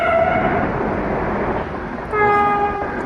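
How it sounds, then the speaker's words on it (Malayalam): A train rumbles past at a level crossing in a bus driving video game, its steady roar accompanied by a sustained horn that fades and then sounds again. "ഇപ്പോൾ ട്രെയിൻ വരും"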